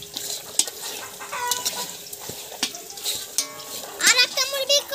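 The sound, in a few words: chicken clucking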